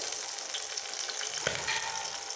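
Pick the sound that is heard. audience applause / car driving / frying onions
frying onions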